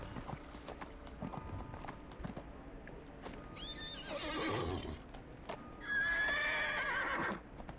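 Two horse whinnies in the game Neverwinter, the first around the middle and a louder, longer one near the end, over a low background of game ambience and faint steps.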